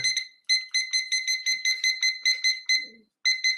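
A timer alarm sounds a rapid series of bright electronic beeps in regular bursts, loud and close, with a short pause before the beeping resumes near the end.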